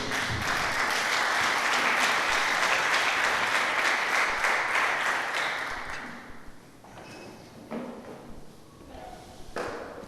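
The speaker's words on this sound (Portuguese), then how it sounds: "aplauda a palavra do Senhor." A church congregation applauds loudly and steadily for several seconds, then the clapping thins into scattered claps and a few thuds as the room settles.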